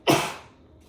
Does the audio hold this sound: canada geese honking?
no